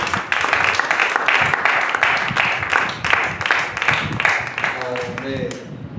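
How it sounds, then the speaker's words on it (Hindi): Church congregation applauding during a Hindi-language sermon, a sustained wash of many hands clapping, loud and close, with a voice speaking over it near the end. "ताली दीजिए।"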